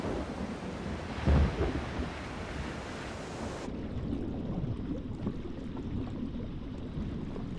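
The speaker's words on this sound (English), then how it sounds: "Storm clouds bring rain," Stormy roar of wind, rain and heavy surf crashing over a Caribbean reef, a steady broadband rush with a brief louder gust or crash early on, no voices.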